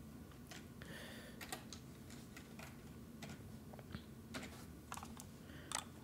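Keystrokes on a computer keyboard as an IPv4 CIDR address is entered, a scattered run of light, crisp taps with a few louder clicks over a steady background hum, close and alone without talk.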